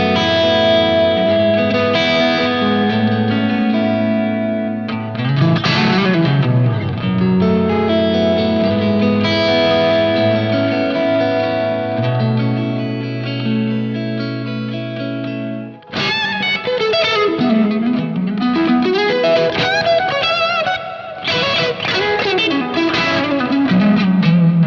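Electric guitar played straight through a 100-watt Marshall Plexi amp, loud sustained distorted chords and bent notes ringing with slight echo, with a brief break partway and no talking.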